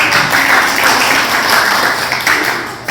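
Classroom applause from a group of vocational nursing students, a dense, steady wash of clapping close by that runs throughout without a break.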